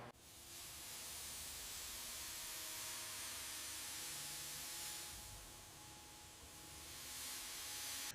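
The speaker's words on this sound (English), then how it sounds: "getting this bare King Midget chassis coated in the satin black" A spray gun lays satin black paint over a bare 1969 King Midget chassis, a steady close hiss that runs almost unbroken, swelling slightly in long even passes.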